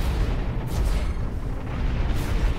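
Heavy low rumbling blast from a mech's shot in the mech combat game Hawken, a dense booming roar sustained through the clip with no talk over it.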